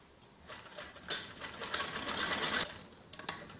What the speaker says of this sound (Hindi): ऐसे इनर को ऊपर नेट वाले सिरे से ऐसे जोड़ के और ऐसे सीधी सिलाई लगाएंगे।